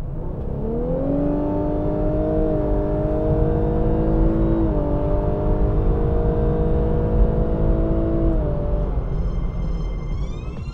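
A Lexus LC500h hybrid GT accelerates steadily under load, its engine note rising and holding in smooth, gear-like stepped tones like an automatic, with a continuous road rumble underneath and no talk.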